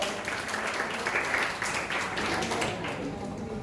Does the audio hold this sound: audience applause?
yes